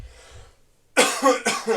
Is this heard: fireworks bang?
no